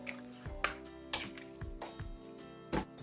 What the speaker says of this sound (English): So I'm just gonna scrape everything in, give it a stir,